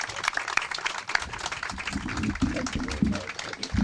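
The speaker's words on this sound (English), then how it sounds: "give him a big round of applause for all he's done." A crowd at a groundbreaking ceremony in Kingsport claps to honor Bill Taft, close, uneven applause mixed with murmuring voices and chatter.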